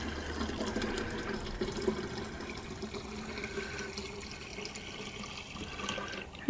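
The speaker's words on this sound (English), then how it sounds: "Okay, I'm just going to add more water, fill up the whole thing." Water poured into a pitcher for horchata, a soft, continuous splashing fill that runs steadily for several seconds, quiet and close with no talking.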